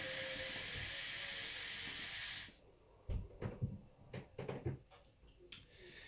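A steady, loud airy hiss runs for a couple of seconds as the first draw is pulled on a hookah packed heavily with Mixery tobacco, then stops, followed by scattered soft knocks and handling noises.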